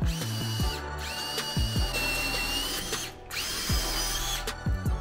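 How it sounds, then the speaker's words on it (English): A power drill with a self-feeding screw-tip speed bore bit whirs in loud sustained bursts as it bores into wood, the motor pitch dipping and rising between pulls with brief pauses. "These speed bore bits where they have the little screw tip that pulls the drill bit through are amazing."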